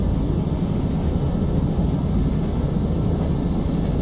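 A train departing in the Satisfactory video game gives a steady, loud rumble with a low, rolling drone that runs unbroken and close throughout.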